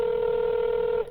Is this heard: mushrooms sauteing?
no